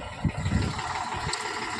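A tractor engine runs steadily in a flooded, water-filled field furrow, a low continuous rumble at moderate distance with a few louder low thumps early on.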